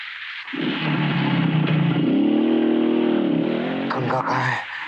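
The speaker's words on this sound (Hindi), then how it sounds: "गंगा मोटरसाइकिल लेके भाग गई" Motorcycle engine revving hard and accelerating away, a loud sustained roar that rises in pitch, holds, then shifts as it pulls off, with shouting voices in a tense village-curfew scene.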